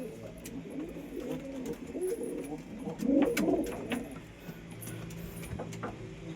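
Pigeons in a pigeon house coo softly and repeatedly, low murmuring calls rising to a fuller burst midway, with faint rustles and clicks around them.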